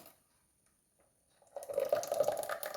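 After a quiet start, thick coconut-yeast batter begins pouring from a mixer into a vessel, a gurgling, splashing stream that continues steadily to the end.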